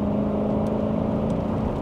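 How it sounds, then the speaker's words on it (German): Interior engine drone of a 1990 Mercedes-Benz 500 SE W126 with a V8 pulling steadily under acceleration, a constant low hum with a faint whine, heard from inside the car with no talking. "Oh, er schiebt, guck mal, wie der anschiebt hier."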